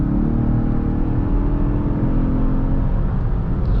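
A 2023 Lincoln Aviator Grand Touring's twin-turbo V6 drones loud and steady in Excite mode, a close, continuous engine roar holding near one pitch throughout, with no voices.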